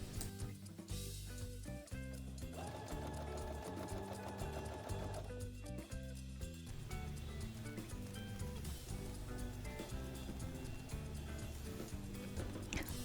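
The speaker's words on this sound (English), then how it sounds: "You want to sew along the top, ensuring the bottom piece of the fabric stays in place." A sewing machine stitches fabric for a scrunchie in a continuous rapid whir with a fast mechanical patter, close and steady throughout.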